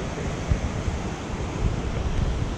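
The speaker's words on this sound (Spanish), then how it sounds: "Miren cómo baja esas aguas contaminadas." A polluted river rushes past in a steady, broadband wash of flowing water, loud and close, with slight surges and no voices over it.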